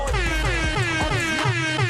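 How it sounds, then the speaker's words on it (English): Loud, blaring air horn blasts with a wavering, siren-like pitch, filling the whole short stretch without pause. "We back, air horns, some air horns."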